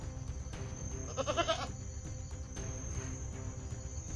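A brief goat bleat wavers out around the middle, faint against steady outdoor background noise and a constant high insect-like hum.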